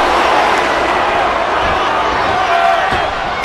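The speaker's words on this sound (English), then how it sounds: "Would you listen to this crowd show their appreciation for these amazing competitors?" A wrestling event crowd roars steadily after a big move, a dense continuous cheer filling the arena throughout.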